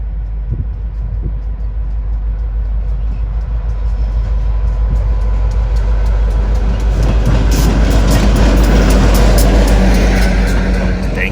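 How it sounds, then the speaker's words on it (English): A CSX geometry inspection train passes northbound, its rumble building steadily and growing louder and denser toward the end of the passage, with rail noise carrying throughout. "train W003 is seen heading northbound, one of CSX's geometry inspection trains"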